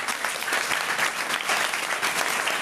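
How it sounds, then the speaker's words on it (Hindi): Audience clapping fills a school hall during a G20-related program at a high school, a steady dense applause with no break over the short span. "अब इसके लिए भी ताली बजाइए।"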